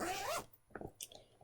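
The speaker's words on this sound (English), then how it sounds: "Sorry, zipper." A clothing zipper makes a quick, close rasp, then a few short zipping pulls after a brief pause.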